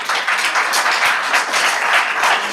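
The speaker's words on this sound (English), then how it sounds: "I'd ask you not to applaud so we can get through this." An audience at a Redondo Beach city council meeting bursts into steady, loud applause that fills the room evenly for a couple of seconds, with no talk.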